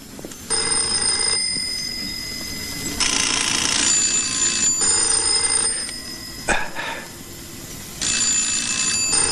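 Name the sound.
telephones ringing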